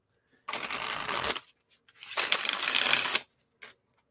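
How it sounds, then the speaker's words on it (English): Tarot cards are shuffled in two bursts of rapid riffling, each about a second long, followed by a faint tap; close and quiet, with no talk. "Okay, last shuffle."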